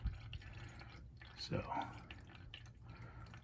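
Brake fluid trickles and drips from a bleeder on a Jeep TJ during brake bleeding, a soft close liquid patter under a brief spoken word.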